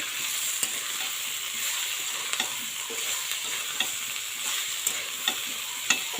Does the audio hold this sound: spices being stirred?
yes